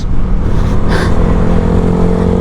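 A Yamaha NMAX Techmax turbo scooter's engine drones loud and close while riding near Kaybiang Tunnel, a steady strong motor hum with a brief rushing whoosh midway and heavy wind buffeting throughout.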